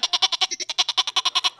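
A person imitates a goat, producing about fourteen quick, nasal bleat pulses in a steady rhythm, loud and close with no other sound around it.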